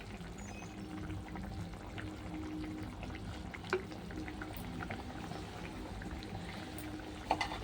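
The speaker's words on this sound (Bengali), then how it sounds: "এবার দেবো একটু সরষের তেল" Mustard oil poured into a pot of cooked mourala fish sour curry with mango, a steady soft liquid trickle under a low simmering bubble, with a couple of brief clinks near the end.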